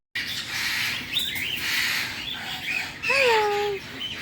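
Pet birds in a bird store chirp and squawk steadily, with sharp rising and falling calls and whistles over a busy indoor background.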